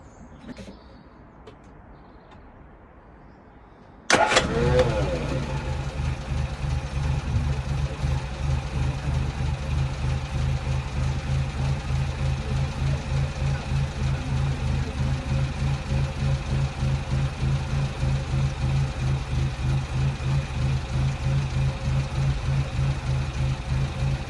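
Car engine started without choke after a spark plug change: quiet surroundings with faint birds, then a sudden crank and catch, followed by a steady, slightly uneven idle running on for about twenty seconds.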